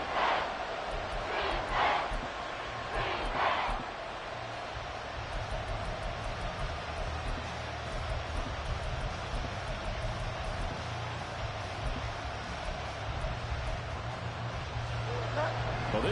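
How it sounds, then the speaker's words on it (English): Stadium crowd in a Madden football video game keeps up a steady, loud roar that fills the whole stretch, with a few sharper swells of cheering near the start. "this crowd doing their best to make a lot of racket"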